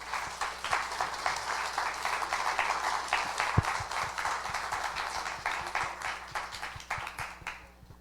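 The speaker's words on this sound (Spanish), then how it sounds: "otro aplauso para Dios" Congregation applauding during a church service, a dense wash of many hands clapping steadily for several seconds before tapering off, moderately distant with a faint murmur of voices.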